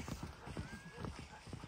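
A horse's hooves clip-clop in a steady, rapid rhythm, faint and somewhat distant, with someone talking over them.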